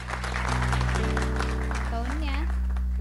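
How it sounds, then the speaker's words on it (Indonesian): Studio audience applause during an Indonesian TV talk show, a broad wash of clapping that swells and holds under sustained music tones and a sung melodic line, steady and fairly loud throughout. "Tepuk tangan dong yang keras bagi Moka"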